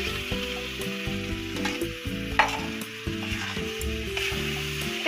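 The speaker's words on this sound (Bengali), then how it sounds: "দেখতে পাচ্ছেন বন্ধুরা আমি মশলাটা কষাচ্ছি" Spinach frying in a reddened spice masala with oil in a pan, a steady loud sizzle with scraping stirring strokes throughout, no voices.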